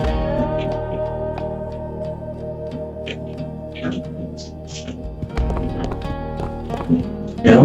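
Horses in an open-world city map of the Half-Life GoldSrc mod Brownsville Project, their hooves clip-clopping in a steady trot over a low game-engine drone, with someone talking over it.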